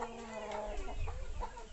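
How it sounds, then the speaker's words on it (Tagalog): A Cobra breed hen at a small farm clucks in a few soft, short notes close by, under a faint background hum. "Ayun yung aming cobra inahin."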